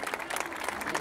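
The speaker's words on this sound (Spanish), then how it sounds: "Aplausos" Audience applause at a municipal event with the mayor and the whole town cabinet, dense rapid clapping from many hands heard fairly close and steady throughout the short burst.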